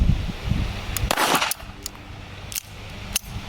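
Gunfire from a Beretta Bobcat stainless .22 LR pistol shooting Winchester ammunition, a few sharp cracks scattered through noisy outdoor background, with a malfunction interrupting the string of shots.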